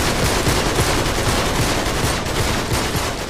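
Gunfire in the video game Uncharted 3: dense, loud bursts of automatic shots crackle without letup, close and overlapping.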